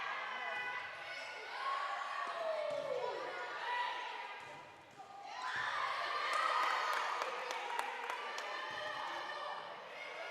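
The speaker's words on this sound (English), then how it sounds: "you can hear the crowd is fired up" A crowd at a girls' volleyball championship game cheers and shouts in a large gym, swelling and easing over several seconds at moderate distance, with a commentator's voice over it.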